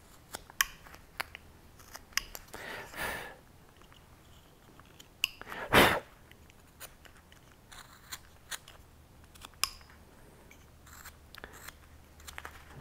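A wooden gnome being hand carved with a knife while the mouth and beard are detailed: quiet, sparse snicks and short cutting scrapes, with one louder burst near the middle, close up and without talk.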